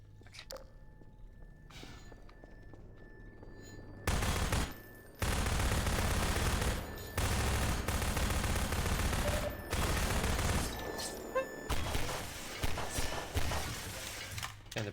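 Gunfire from Half-Life 2, loud dense bursts of shots that start after a quieter opening and keep cracking in heavy clusters with brief gaps, alone without talk.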